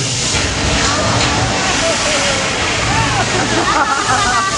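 Water spray physical effect during a live harbor attack show, a loud continuous hissing gush of water with crowd noise and voices underneath.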